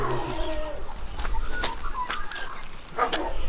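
A small dog gives a few short barks amid busy outdoor background noise, with chicken-like clucks and bird sounds nearby.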